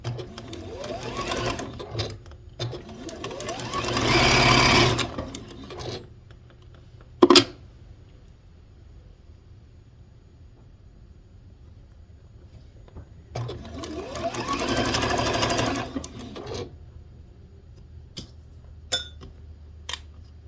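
Domestic sewing machine stitching a pins-and-pincushion quilt block, two steady whirring runs of a few seconds each separated by quiet pauses, with a sharp click between them and faint ticks near the end.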